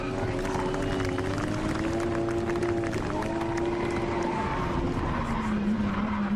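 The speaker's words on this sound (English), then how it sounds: "To finish off the first demo, it was time for some 2-car donuts" Two drift cars spin donuts together, engines holding a loud droning rev with shifting pitch while tyres skid continuously, a steady dense roar from start to finish.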